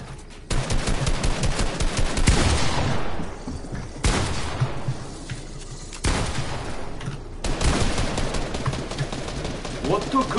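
Rapid bursts of gunfire in the video game Fortnite, clustered volleys broken by short pauses, with people talking over the shots.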